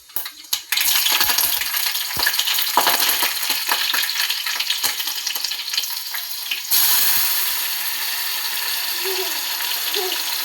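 Mustard seeds frying in hot oil, a dense crackling sizzle that starts loud with scattered sharp pops and settles into a steadier hiss, close by and without talk.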